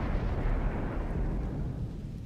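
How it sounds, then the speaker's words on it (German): A deep, rumbling explosion in the space video game Star Trek Online rolls on as a sustained heavy roar, loud and dense from start to finish without talk. "Praktisch direkt mit der Explosion."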